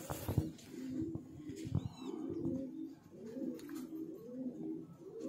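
Breeder pigeons in a loft coo in soft, repeated low rolling phrases close by, with a few faint chirps and light rustling in the background.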